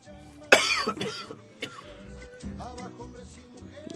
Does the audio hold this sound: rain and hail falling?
no